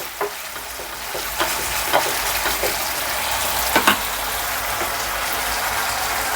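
Thick pasta gravy bubbling hard over a high flame, a steady close hiss and sizzle with a few soft stirring clinks and pops scattered through, no voices.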